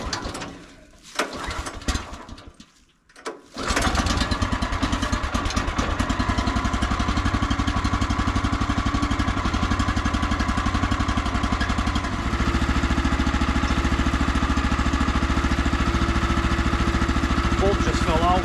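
Sawmill engine cranked with the choke on and catching after a few seconds, then idling steadily and loudly as it warms up, with a person speaking over it.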